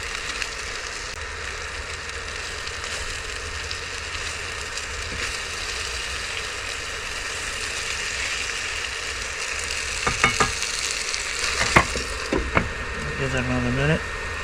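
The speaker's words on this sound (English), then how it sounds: "And let's check that stir fry." Chicken stir fry sizzles steadily in a pan at a riverside truck camp, with a constant crackling hiss throughout, joined near the end by clinks and scraping of utensils.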